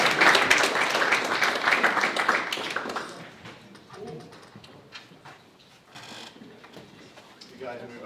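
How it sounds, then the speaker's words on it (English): Applause for the winning quiz app team at the BrumHack hackathon live demos: a dense burst of clapping for about three seconds that then thins to scattered claps and room noise. "round of applause for you guys"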